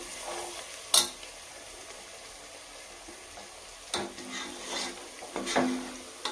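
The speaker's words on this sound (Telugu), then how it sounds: "అల్లం వెల్లుల్లి పేస్ట్ అంతా మనకి ఫ్రై అయిపోయింది" Ginger garlic paste fries in hot oil for a country chicken and tomato curry, a soft steady sizzle broken by several sharp scrapes and clinks of the spoon against the pot.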